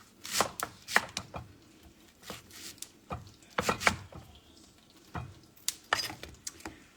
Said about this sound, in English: So I'm cutting up the onion now.